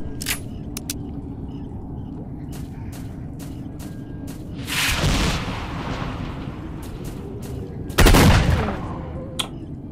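Two loud gunshot blasts from a firearm in the video game S.T.A.L.K.E.R. Shadow of Chernobyl, about three seconds apart, each sharp and broadband, over a steady game ambience with faint clicks.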